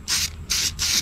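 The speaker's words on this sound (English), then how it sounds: "I'm just going to spray some of this conformal coating on the board here," Conformal coating is sprayed from a can onto a jet ski circuit board, three close, even hissing bursts separated by short pauses, with nothing else over them.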